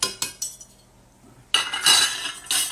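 A metal spoon clinks against a pan while turning frying akara, a few sharp clinks at the start, a brief pause, then a louder burst of scraping and clattering metal near the end.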